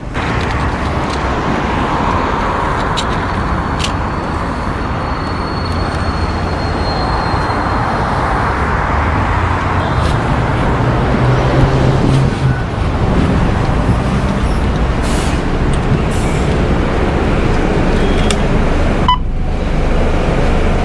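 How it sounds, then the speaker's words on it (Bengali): A bus pulls in through busy Dubai street traffic, its engine a steady loud rumble amid a continuous wash of passing vehicles, with a brief drop in the noise near the end. "বাস চলে এসছে, পিছনে বাস আছে"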